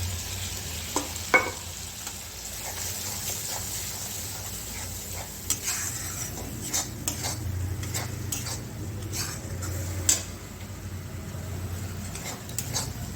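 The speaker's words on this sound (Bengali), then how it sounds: "সরষের যে বাটাটা দিয়ে দিয়েছি সেটা বেশিক্ষণ আমি ভাজবো না।" Mustard paste frying in a pan, a steady low sizzle with occasional stirring scrapes and light clinks of utensil against the pan, close and continuous throughout.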